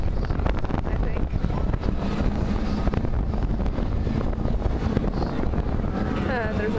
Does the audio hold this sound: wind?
yes